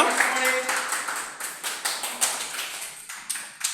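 A group applauding the best singer at a team event, a run of sharp irregular claps repeating across the whole stretch, close and fairly loud, with no voices over it.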